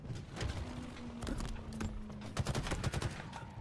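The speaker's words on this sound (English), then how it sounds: "I forgot about the skimmers having shock rifles." Shock rifle fire from Skimmer enemies in the Halo Infinite video game: quiet, rapid crackling bursts of zapping shots, repeated irregularly throughout.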